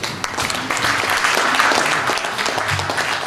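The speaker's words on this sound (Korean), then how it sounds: "큰 박수로 받도록 하겠습니다" Audience applause at a Korean MOU signing ceremony marking a channel launch, a dense steady clatter of many hands filling the whole stretch without pause, loud and close.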